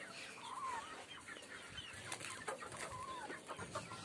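A small young hen, a multicoloured village fowl, gives a few soft, faint clucks and short calls in a quiet outdoor yard, spaced apart with light rustling between.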